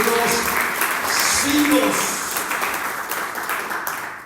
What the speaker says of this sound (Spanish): te damos un aplauso glorioso al Rey